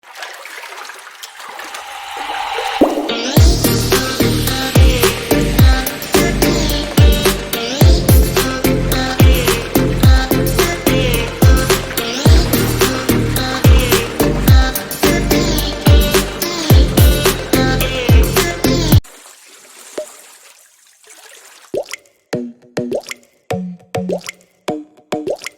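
Water gushes and splashes steadily from a running tubewell in a village field for most of the clip, a loud close churning flow that cuts off and leaves scattered drips and small splashes.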